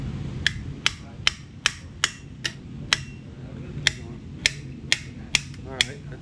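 Sharp metallic hammer strikes ring out one at a time at an uneven, roughly half-second pace while a part for a Mazda Autozam AZ-1 seat modification is worked on, over a low background hum.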